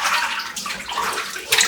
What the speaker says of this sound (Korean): 물에 깨끗이 3번 정도 씻어주고